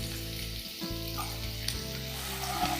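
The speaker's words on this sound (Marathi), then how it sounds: "आता आपण पहिले लसूण घालूया, किसलेला आलं घालूया आणि हिरव्या मिरचीचे तुकडे घालूया।" Garlic, grated ginger and green chili pieces hit hot oil for a dhaba-style veg keema masala, giving a loud, steady sizzle with a brief dip and then renewed crackling and faint stirring, no voices.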